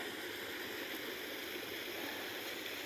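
A small mountain stream flowing over rocks along a forest hiking trail, a steady even rush and gurgle heard close up with no pauses and no voices.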